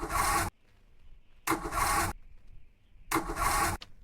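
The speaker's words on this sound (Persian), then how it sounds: "آقا ببینیم ماشین اصلا روشن میشه" Three loud cranking bursts from a car engine failing to start in a video game, each about half a second long and separated by quiet gaps, with no catch into a running idle.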